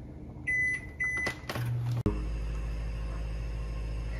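A microwave-style oven control panel is set to 425 degrees for baking fries, giving a handful of short, clear electronic beeps and button presses, followed by a steady low hum as the oven starts running.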